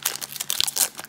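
A Masters 25 Magic trading card booster pack wrapper torn open, a quick close crinkling rip of foil packaging in a few sharp bursts over about a second.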